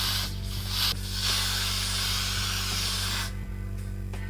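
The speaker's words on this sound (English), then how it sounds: "what I'm doing is just spray some Got To Be" A steady, continuous aerosol spray of Got2b wig glue spray hisses up close for several seconds, with brief pauses and a low hum underneath.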